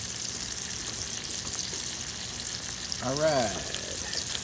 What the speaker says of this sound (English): I threw in 2 pieces of garlic to go along with it, and that thing is sizzling